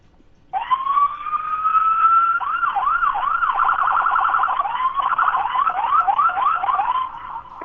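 A police siren wails up, then switches to a fast yelping warble, loud and steady for several seconds before cutting off.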